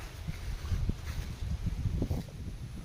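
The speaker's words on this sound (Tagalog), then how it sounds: "Kahit ngayon po ay napakalakas pa din ng hangin, wala naman na pong ulan." Strong wind after a typhoon buffets the microphone outdoors in a backyard garden, making a gusty, uneven low rumble that swells and fades, fairly faint and with no voices.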